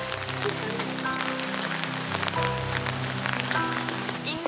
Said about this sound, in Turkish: Ama maalesef yine yağdı.